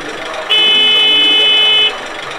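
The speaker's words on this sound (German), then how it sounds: "Dann können wir mal hupen lassen und anfahren." A 1:32 scale model Klv 12 railcar sounds its horn: one electronic tone held for about a second and a half, loud and close over a faint background hum.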